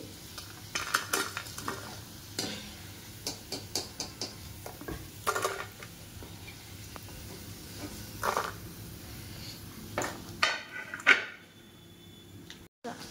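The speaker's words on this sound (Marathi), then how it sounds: "शिमला मिरची पाहू शकता तुम्ही किती क्रिस्पी झाली आहे. आवाज पण येत असेल." Bell pepper pieces crisp up in a frying pan over a quiet background sizzle, with frequent sharp clicks and scrapes of stirring. The pan noise cuts out abruptly near the end.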